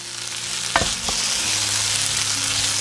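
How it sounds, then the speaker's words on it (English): Potatoes and onions sizzle and fry steadily in a pan over medium heat, with a couple of sharp scraping stirs early on, then a continuous crackling hiss. "Now we need to fry the potatoes."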